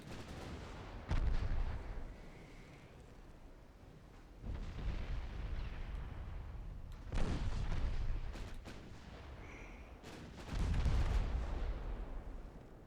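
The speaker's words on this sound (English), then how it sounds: "This is 15-inch guns." The 15-inch naval guns of a warship in the game Ultimate Admiral Dreadnoughts fire in heavy, booming salvos. Several deep blasts roll out over a constant low rumble of battle ambience, with each report fading slowly.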